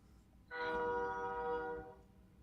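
A passing train sounds its horn in one steady, fairly faint blast of about a second and a half, rich and tonal, standing out over a quiet background.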